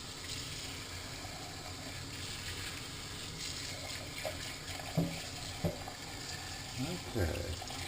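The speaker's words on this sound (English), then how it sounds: "Some of them get stuck in there, so I'm going to rinse them out." Dirty clad coins being rinsed in water make a steady wash of running, sloshing water, with a few louder splashes and clinks near the end and no clear talk.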